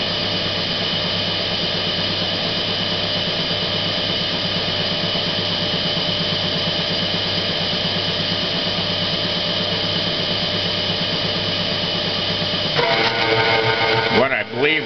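A CNC lathe cuts a thread with its Z-axis synced to the spindle, a loud steady mechanical whine and hum running on evenly before shifting to a wavering, changing tone near the end as the tool backs out.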